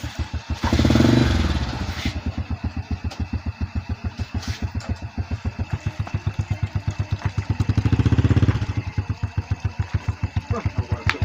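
A motorcycle engine idles with a steady, rapid chugging pulse, swelling louder twice as the throttle is briefly revved, close by.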